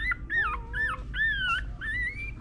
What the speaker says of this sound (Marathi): तिने आज 8 पिल्लांना जन्म दिलेला आहे